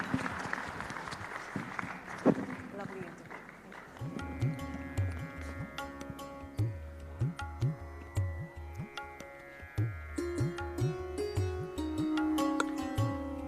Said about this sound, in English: A huge round of applause for Prime Minister.